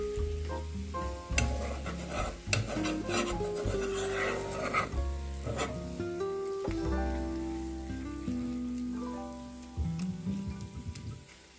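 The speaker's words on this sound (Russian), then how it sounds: "Теперь все это перемешиваем." Spoon stirring a cheese pie filling with pieces of lavash in a bowl, soft wet scraping and tapping strokes in an irregular rhythm, close and fairly quiet.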